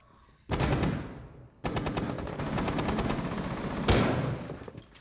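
Bursts of automatic gunfire from a shooter video game, with a long rapid rattle of shots that starts abruptly, pauses briefly, resumes and then swells into a louder burst, close and loud with no talking.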